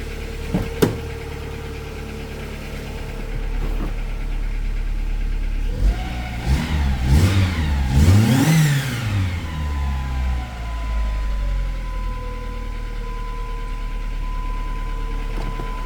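A Dodge Neon engine idles steadily, then revs up sharply several times in quick bursts before settling back to a low, even idle.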